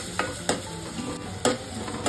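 Onions fry in a little oil in a pan for a mushroom and cashew curry, a soft steady sizzle broken by a few sharp spoon-against-pan clinks, close up.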